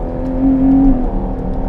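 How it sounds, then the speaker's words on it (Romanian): Ferrari Purosangue engine revving as heard from inside the cabin, a steady low mechanical drone that swells into a rising rev before easing back, moderately loud with no talking. "Ce frumos au gândit sunetul motorului să intre suficient de mult și în habitaclu"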